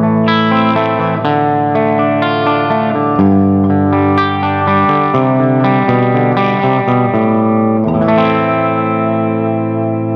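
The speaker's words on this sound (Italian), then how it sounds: "questo è il suono dell'ampli col pedale spento." Electric guitar played through a Marshall-style amp with the distortion pedal switched off, a steady run of ringing, overlapping notes and chords that stays loud and close throughout, with no talking.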